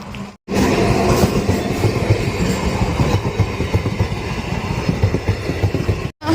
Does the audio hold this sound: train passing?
yes